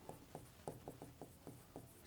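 Pen or chalk writing out a solution to a class 10 heat numerical problem, a faint, close series of short scratchy strokes in a loose rhythm.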